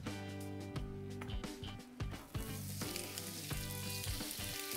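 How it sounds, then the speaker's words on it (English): Onions sizzling in oil on a Steelmade USA flat top griddle, a strong steady close hiss with a few scraping hits of a spatula, while tonal background sounds run underneath. "Let's throw on the onions."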